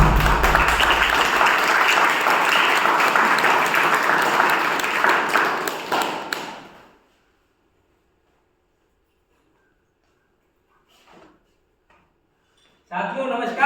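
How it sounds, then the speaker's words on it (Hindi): Audience applause at a business gathering rolls on loudly and steadily for several seconds, then fades out into near silence, broken by a couple of faint clicks and a voice starting to speak at the very end. "मैं चाहूंगा थोड़ा तालियां हो जाए।"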